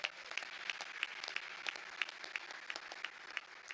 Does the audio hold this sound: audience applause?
yes